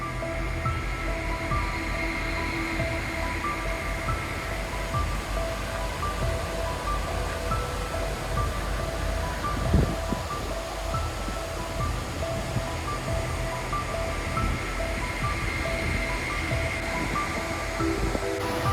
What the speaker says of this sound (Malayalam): മുകളിൽ വെള്ളം ഒഴുകി ഇവിടേക്ക് വന്ന് ഇവിടെ ഒരു ചെറിയ കുത്തുണ്ട് കേട്ടോ